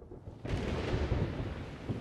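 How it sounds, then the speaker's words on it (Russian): A sudden heavy downpour with a deep rumble of thunder breaks over the African savanna, starting abruptly after brief quiet and then sustaining a dense, loud roar. "Затем тучи разражаются ливнем"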